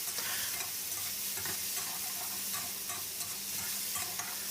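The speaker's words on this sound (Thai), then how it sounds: "กระเทียมก็ได้ที่แล้วตามด้วยปลาหมึกที่เราพักในกระชอนไว้นะครับ ก็นำมาผัดได้เลยครับ" Squid stir-fried with golden garlic in a pan gives a dense, continuous sizzle with constant rhythmic stirring scrapes, close-up and fairly loud throughout, with no talking.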